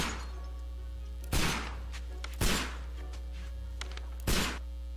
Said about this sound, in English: every time Sherlock Holmes is introduced in something, he's always shooting at something